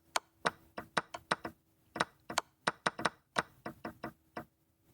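Chess pieces knocked onto the board during a blitz game in the Sicilian Defence Taimanov line: a quick, irregular run of close, crisp wooden knocks, with no talking.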